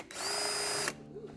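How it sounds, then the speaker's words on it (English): A power drill bores into the metal frame of an Evolution D5 Ranger 4 golf cart, a loud steady high whine lasting under a second before it cuts off, with some mechanical rattle afterward. "you're just gonna go drill right back into that same spot"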